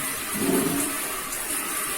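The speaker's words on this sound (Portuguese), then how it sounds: "Me liga a água aqui, ó. Do chuveiro mesmo" Water from a bathroom shower runs in a steady, close hiss with no talk over it.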